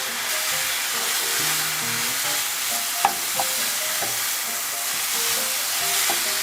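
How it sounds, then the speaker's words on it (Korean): Beef sizzles and fries steadily in a pot with chili flakes for a spicy Korean beef and radish soup, a continuous hiss broken by a few sharp utensil clinks against the pot. "불을 좀 약하게 하시고 태우지는 않게 충분히 같이 볶아주셔야 됩니다"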